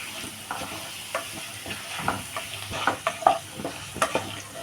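Onion puliyogare mixture being stirred and fried in a pan, a steady soft sizzle broken by scattered scraping taps of a spoon against the metal, moderately close and fairly quiet, with no talking.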